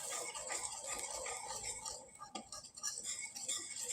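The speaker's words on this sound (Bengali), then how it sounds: "আমি খুব ভালোভাবে নেড়ে চেড়ে নিচ্ছি।" A spoon stirring thick potato snack batter in a bowl after water is added, faint scraping and soft clinks in a steady, close, quiet rhythm with one sharper knock.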